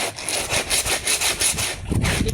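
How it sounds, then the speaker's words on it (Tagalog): Laundry scrubbed hard by hand, a steady loud rhythmic rubbing of fabric with strokes about every half second, with no talk over it. "pagtitigilan pagka may dumi na kailangan kuskusin ko talaga yan"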